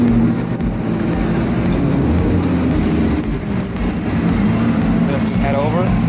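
An Alfa Romeo car passes on a Monaco street, its engine and tyre noise loud and close amid steady traffic, with people talking nearby.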